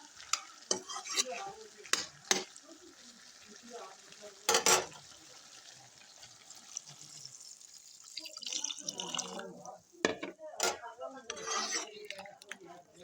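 Water poured into frying fish in a pan, sizzling softly while a utensil scrapes and clinks against the pan in bursts, the stirring growing busier toward the end.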